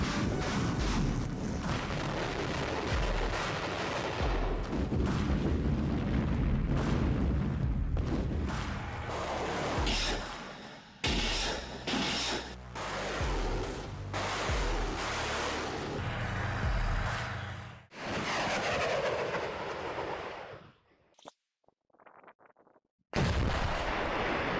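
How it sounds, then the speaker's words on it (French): Russian Grad and Uragan rocket artillery and Akatsiya self-propelled howitzer fire in a dense, loud series of booming blasts and rumbling salvos with wind buffeting the microphone, ending in a few sharp reports separated by near silence. "le système de roquettes d'artillerie Grad et Ouragan, l'obusier automoteur Akatsiya, doté de projectiles guidés"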